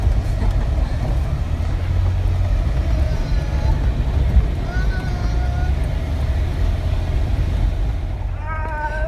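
A Jeep drives a very bumpy off-road trail at Chicken Corners near Moab, its engine and rough rumble loud and steady throughout, with chatter from passengers inside.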